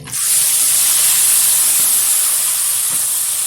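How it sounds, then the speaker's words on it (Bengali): Washed goat liver goes into hot oil with whole cumin and turmeric and erupts in a loud, close, hissing sizzle. The sizzle holds steady for several seconds. "দিয়ে দিচ্ছি ধুয়ে রাখা মেটে"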